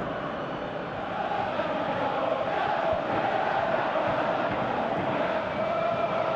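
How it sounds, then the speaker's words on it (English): A large stadium crowd at a Champions League football match, Besiktas v Real Madrid, roars in a steady, dense wash of noise, loud and continuous, with no clear individual voices standing out. "you can hear how the crowd are reacting to this too"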